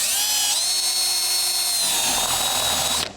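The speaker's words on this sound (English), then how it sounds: "So when I drill through the aluminum like this" A step drill whines at a high, steady pitch as it bites into aluminum, the tone shifting partway through before stopping abruptly; close and loud.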